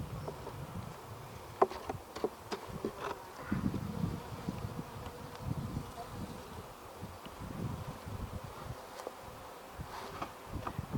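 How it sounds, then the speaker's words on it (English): Calm honeybees crawling over a hive frame during an inspection give off a soft, steady low buzz, quiet and close, with faint rustles and small knocks of the frame scattered through. "These are nice bees."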